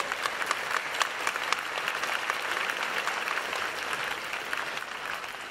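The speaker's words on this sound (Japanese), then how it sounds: "皆さんもう一度改めて大きな拍手を送りください。" Audience applause in a gymnasium at a Japanese T.League table tennis match, steady dense clapping from a large crowd sustained throughout, fairly distant and even.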